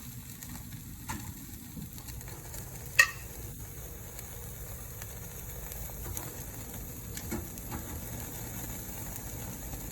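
Seasoned meat seared on a grill gives a low, steady sizzle with a soft background hum. A single sharp tap or clank comes early, and a few faint clicks follow.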